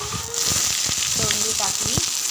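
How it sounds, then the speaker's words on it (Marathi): Ivy gourd (tondli) sizzles steadily in hot oil, a continuous close frying hiss with a few scraping stirs and clicks of a spoon against the pan. "याच्यात तोंडली छानपैकी तेलात फ्राय करून घ्यायची."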